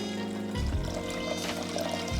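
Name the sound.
pouring sugar and water into a saucepan for syrup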